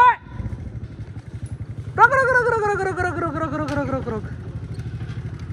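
A motorcycle engine idles with a steady, low, pulsing thump from start to finish, while a voice speaks over it partway through.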